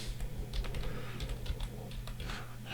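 Password typed on a computer keyboard during a software install on a Lubuntu 24.04 Radxa X2L mini PC: a quiet, steady patter of soft key clicks over a low hum, close by and with no talking.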